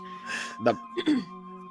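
A cough from Seuss, a game character, voiced as two short throaty bursts, the second one doubled, over a steady humming game background.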